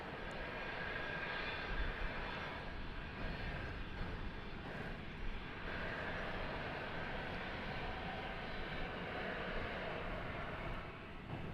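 A jet airliner departing DFW Airport on a flight to Denver, its engines giving a sustained, steady roar of moderate loudness that thins slightly near the end, with no talking over it.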